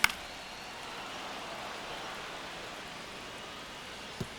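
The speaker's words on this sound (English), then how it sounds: "the field's not going to be able to hold up if the rain gets any worse than this" Rain falling on a baseball field in MLB The Show 25, a soft, even hiss of steady rainfall with a faint knock at the start and near the end.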